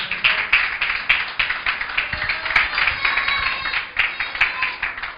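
Church congregation clapping together during a Spanish-language sermon, a steady run of sharp, overlapping claps at close range, dense and continuous with no voices on top.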